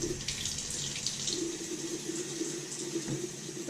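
Water running steadily onto a sharpening stone during a kamisori razor honing session: a continuous close splashing trickle with no speech.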